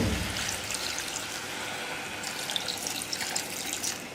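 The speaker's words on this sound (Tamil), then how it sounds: "தண்ணி சேர்த்துடலாம்." Water pours steadily and splashes into a cooking pot of potatoes and tomatoes for a chapati side dish, a continuous close hiss with no talk.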